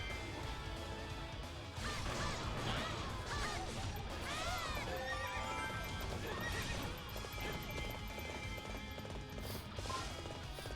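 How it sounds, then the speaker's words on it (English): Galloping hooves of the horse Epona in the action game Hyrule Warriors, a steady clip-clop rhythm with neighs and whinnies over busy game music and battle crashes, loud and continuous throughout. "Link on the horse."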